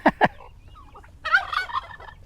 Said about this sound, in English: That turkey is not letting Baxter get in the fence.